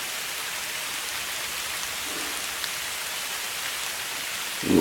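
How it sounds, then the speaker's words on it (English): Steady rain falling at an Appalachian deer camp, a loud even hiss of drops on the ground and surroundings, continuous throughout with a brief thump near the end. "Comes another rain."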